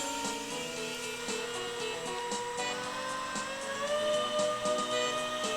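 NitroPlanes Swing Wing F-3 Tornado RC model plane in flight, a thin high electric whine that rises and falls in pitch, moderately faint and steady, with no voices.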